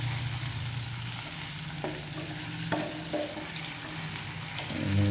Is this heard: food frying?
yes